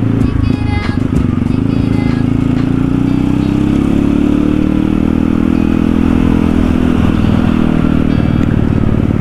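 A motorcycle ridden through traffic carries a noisy front tyre, heard as a constant rough roar and rumble with clattering rattles, close and loud throughout, with a rider talking over it at the start.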